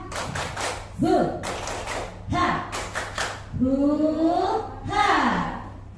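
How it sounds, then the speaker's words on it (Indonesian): Tepuk semangat, a rhythmic clapping chant led in an Indonesian school classroom presentation. Short bursts of clapping alternate with voiced chant syllables in a repeating pattern, with voices sliding between the claps. "Tepuk semangat."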